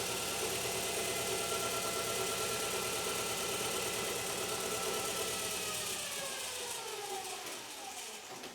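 A Regen X quantum motor runs with a steady mid-pitched mechanical whir and faint knocking vibration, holding even for several seconds before easing off and growing quieter near the end.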